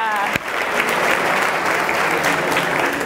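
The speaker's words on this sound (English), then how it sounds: "Let's give them a round of applause" An audience at a welcome gathering in Joburg breaks into a round of applause, dense steady clapping filling the room for about three seconds after a brief sharp onset.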